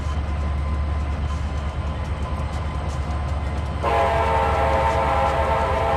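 A six-axle train in the Trainz 2022 railway simulator rumbles steadily along the track, and partway through a loud, sustained horn blast cuts in and holds to the end, with no voices.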